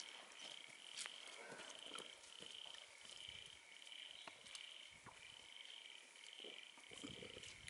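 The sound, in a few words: frogs croaking in the country at Wirrabara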